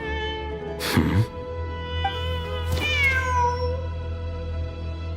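A cat meows in the Genshin Impact video game, two drawn-out, rising-falling calls close by, set over a steady low game ambience and music bed with no talking.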